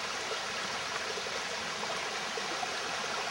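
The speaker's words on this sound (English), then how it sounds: "this is our little waterfall down here, and still running fairly nicely" A small waterfall on a rural property in July gives a steady, unbroken rush of falling water, close and continuous, with no voices over it.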